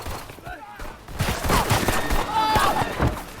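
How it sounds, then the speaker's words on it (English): Gunfire crackles through a violent shootout between ambushing gangsters and guards in front of a building, with dense bursts of shots and thuds layered under chaotic voices and music-like tones, loud and busy throughout. "triggering a violent shootout in front of the building"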